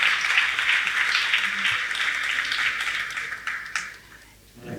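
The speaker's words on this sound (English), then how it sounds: "Give him another round of applause." Dense, steady applause from a banquet audience at an annual CEO Round Table dinner, filling the room with many hands clapping together before thinning out and fading near the end.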